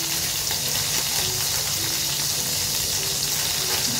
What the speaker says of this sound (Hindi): और इसी तेल में अब हम डाल देंगे थोड़े से साबुत गरम मसाले